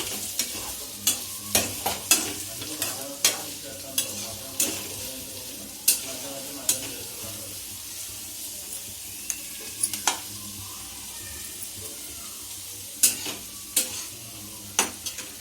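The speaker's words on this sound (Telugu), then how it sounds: "మనం ఇప్పుడు ఆనియన్స్ మిక్స్ చేసుకోబోతున్నాం." Onions stirred as they fry in a pan for tomato pasta, giving a soft, steady sizzle broken by frequent sharp scrapes and clinks of a utensil against the pan, close up and without speech.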